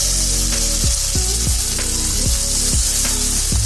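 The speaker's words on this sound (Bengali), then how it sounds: "মশলাগুলো ভাজা হয়ে গেলে অল্প পরিমাণ পানি দিয়ে দিচ্ছি" A little water hits spice masala frying in a pan for a small-fish jhal curry, setting off a loud, continuous sizzle with repeated sharp bubbling pops, no speech.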